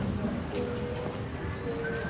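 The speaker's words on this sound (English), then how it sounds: "This pigeon, yes." A pigeon at a snake farm that also keeps poultry gives low, soft coos under steady outdoor background noise, with faint voices nearby.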